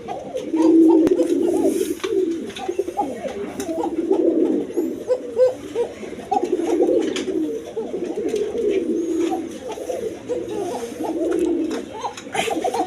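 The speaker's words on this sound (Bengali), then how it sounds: "এইখানে এক পেয়ার পোকা কবুতর আছে দেখেন খুব ডাকা ডাকতাছে" A pair of large pigeons, about a hand-length in size and offered for sale, coo loudly and repeatedly in overlapping, rolling calls that run nearly the whole time.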